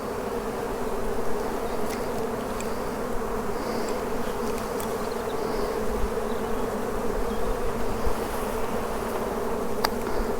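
Honey bees buzz steadily at an open hive while brood frames are handled, a dense, even drone close by with a few faint knocks and no speech.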